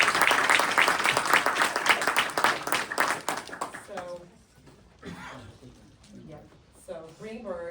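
A crowd applauds a founder of Earn Your Leisure Network being honored at a Greenburgh town event, loud dense clapping for about four seconds that fades into voices talking nearby.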